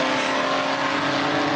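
A BMW M4 GT4 race car accelerates hard on a wet circuit, its engine a loud, steady, close roar that holds without a break.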